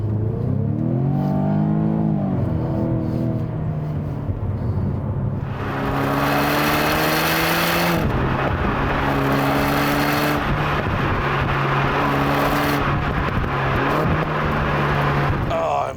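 A Jaguar F-Type P300 with a four-cylinder turbo engine, driven in dynamic mode with manual shifting on a chilly day, revs up loudly through the gears, each rising pull ending in a shift as the engine note drops back.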